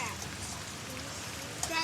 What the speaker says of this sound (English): this is really pouring rain